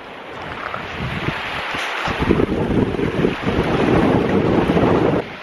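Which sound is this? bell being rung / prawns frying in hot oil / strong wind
strong wind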